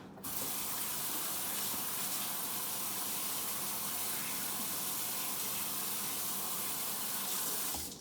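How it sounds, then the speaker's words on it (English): Tap water runs steadily into a kitchen sink while someone washes their hands after handling potato-chip-coated chicken, a continuous close splashing hiss with no talk. "I have got to wash my hands."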